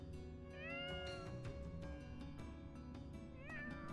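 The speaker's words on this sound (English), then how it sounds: "Kitties." Cats in Fire Emblem: Three Houses give several clear, rising meows spread across a few seconds over a steady musical background, with no talking.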